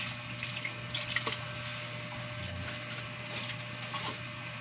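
A little broth poured into a sautéed sardine dish, a steady close trickle of liquid with faint sizzling underneath and a hum in the background, no talking.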